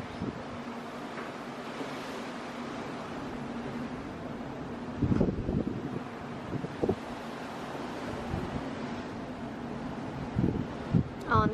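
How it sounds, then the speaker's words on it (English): Strong wind gusting across the deck of a cruise ship at sea bound for Bermuda near sunset, a constant roaring rush buffeting the microphone with louder swells, broken by occasional brief knocks and thumps. "Very windy. It is really windy."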